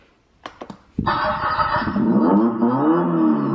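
A Costzon two-seater ride-on toy car plays its electronic startup sound: a few short clicks, then a loud, steady synthesized engine rumble that carries on to the end.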